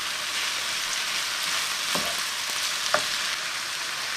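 Zucchini and bacon lardons frying in a pan, a dense, even sizzle from start to finish, broken by a few soft utensil taps, close and without talk.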